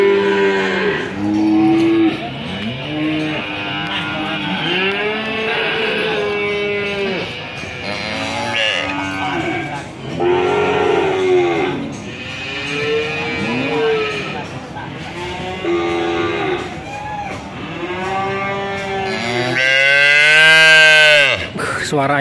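Small cattle moo repeatedly at a morning market in a long series of loud, drawn-out lows, one after another, with a brighter, louder call near the end.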